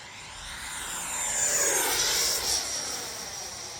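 Large, heavy RC fighter jet makes a full-speed pass, its turbine whine and rushing roar rising to a loud peak near the middle, then easing away as it passes, with a sweeping Doppler shift.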